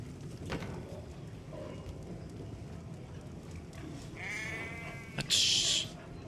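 Sheep bleat on a video game farm that also keeps hogs. A few bleats stand out over a low ambient bed, with faint speech in the background.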